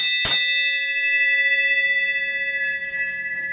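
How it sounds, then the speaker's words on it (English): An old bell in a shop is struck once with a sharp clang, then rings on alone with a long, bright, slowly fading metallic tone. "let's ring the bell."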